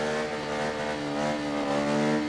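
A supermoto motorcycle engine hums steadily during wheelie practice, a sustained mid-pitched drone with slight swells in throttle, fairly distant and without speech.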